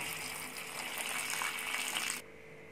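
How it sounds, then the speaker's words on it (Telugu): About two glasses of water poured into a simmering crab curry in a pot, a steady close gushing rush that runs for about two seconds and then cuts off abruptly. "ఇప్పుడు ఇందులో వాటర్ వేసుకోండి. నేనైతే 2 గ్లాసెస్ వేసుకుంటున్నాను."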